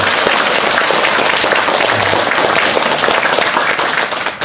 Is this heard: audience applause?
yes